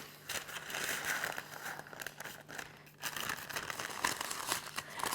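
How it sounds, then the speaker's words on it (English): A triangle of baking paper is rolled up into a paper piping bag, giving soft, close crinkling and rustling in irregular bursts throughout, with no talking. "I'm going to make a paper piping bag, so a triangle of baking paper."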